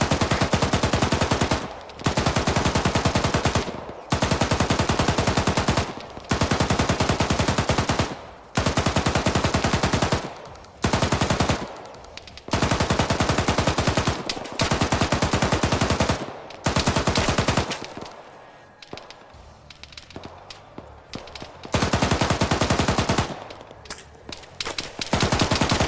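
Sustained machine gun suppressing fire in Arma 3, a Cold War era scenario: long, loud, close bursts of rapid automatic fire broken by brief pauses, with quieter scattered shots in a lull near the end.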